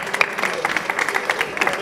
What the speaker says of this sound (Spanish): Un aplauso para ese borracho